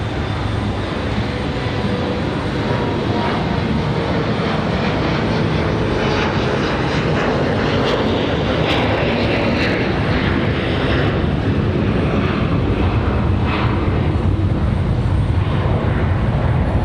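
An Air Canada jet airliner departing Raleigh-Durham on a windy day, a loud, steady engine roar filling the air throughout, with wind rumble beneath.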